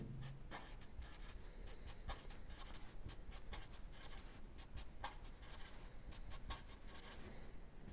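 Pen or pencil scratches steadily across paper while Spanish reflexive verbs are written out, a close, continuous scribbling with quick rhythmic strokes and no talking.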